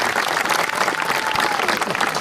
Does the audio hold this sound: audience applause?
yes